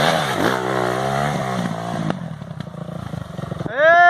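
A trail motorcycle engine idles and revs with a buzzing, harmonic drone that drops away, then climbs sharply at the end, heard close on an outdoor dirt-trail ride.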